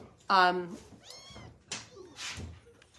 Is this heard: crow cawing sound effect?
no